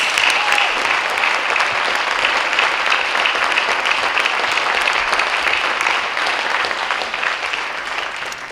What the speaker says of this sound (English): One more round of applause for these folks.